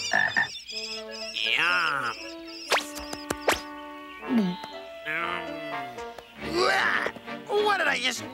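Cartoon frog croaks in an animated Legend of Zelda adaptation: several exaggerated, warbling croaks and ribbits, some with rising pitch, mixed with bright musical tones and sound effects, loud and close.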